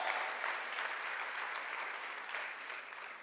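Church congregation applauding during a sermon, a dense, even patter of many hands that sounds somewhat distant and subdued, lasting a few seconds.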